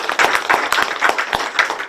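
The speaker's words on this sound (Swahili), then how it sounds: "Hora imita makofi mega" Audience applause at a Kikuyu-language gathering: dense, steady clapping from many hands throughout, fairly close and moderately loud, with no voices over it.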